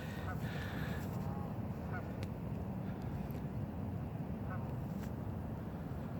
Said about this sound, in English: I had to stop with the ducks and geese